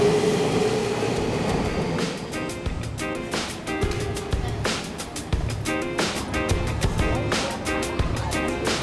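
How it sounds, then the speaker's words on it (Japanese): A train rolls into a station platform in Tokyo's Shibuya area with rhythmic clickety-clack from the wheels and a low rumbling hum, loud and close, with faint voices in the background. "ホームに滑り込んできた電車に揺られて、次は渋谷へと向かいます。"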